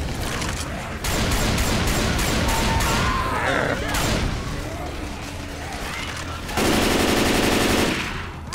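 Gunfire in the video game Left 4 Dead 2 rattles in loud, dense automatic bursts, with several players shouting over the constant shooting and a harsher sustained burst near the end.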